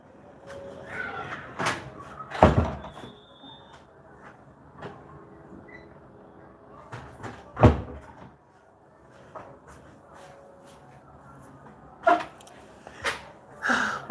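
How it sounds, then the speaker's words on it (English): A door shut indoors gives a few sharp knocks and thuds, spread out among quieter rustling and handling sounds, with no talk over them. "I want to close this door again."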